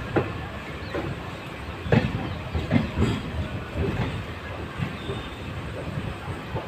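A train pulls out of Dehradun railway station, a steady low rumble of wagons with irregular clanks and light wheel squeal, fairly close and continuous with no talking.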